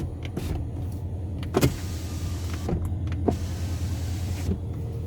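Power windows of a 2013 Porsche Panamera Turbo running, a steady electric motor whine heard from inside the car, with several soft clunks as the glass stops, close and continuous with no speech.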